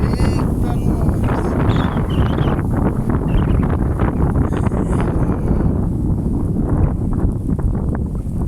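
Strong headwind buffeting a microphone while cycling, a loud continuous rumbling roar with gusty swells throughout.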